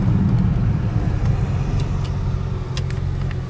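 Nissan GTR engine running, a steady low rumbling drone heard from inside the car, with faint ticks and clicks over it and no speech.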